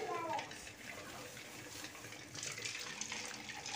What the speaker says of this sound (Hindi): हमारा तेल गरम हो चुका है, तो अब ये हम अपने डाल देते हैं।